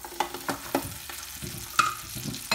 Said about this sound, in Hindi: अब इसमें हम डालेंगे तकरीबन 2 टेबल स्पून बटर